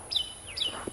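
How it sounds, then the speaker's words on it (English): An outdoor bird gives two clear, high whistled calls in quick succession, moderately close, followed by a brief softer note. "sounds like our old friend the bird is back"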